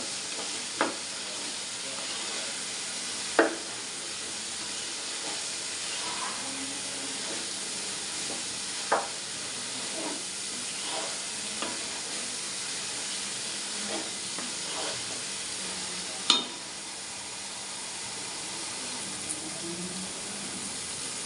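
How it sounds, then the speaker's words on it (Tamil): Onions, tomatoes and spices, including garam masala, sizzle steadily in a pan for chicken biryani, a constant frying hiss broken by occasional scrapes and clinks of stirring, with no talking. "நல்லா வதக்கி விட்டுக்கலாம்"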